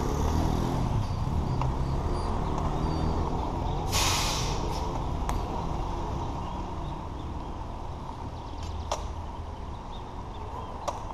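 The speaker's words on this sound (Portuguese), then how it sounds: "Enchei meu pneu ali, mano." Compressed air from a hose hisses steadily into a Ford Fiesta Zetec tire at a filling station, a continuous broadband rush with a few short sharp bursts, loud and close, with no talking.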